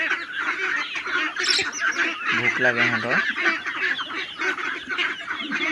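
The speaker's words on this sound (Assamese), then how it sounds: "এই হাঁহ পোৱালিখিনিও খাই আছে" Ducks and ducklings quack nearby while feeding, a short burst of honking calls while someone talks over the flock.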